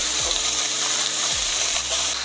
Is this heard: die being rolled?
no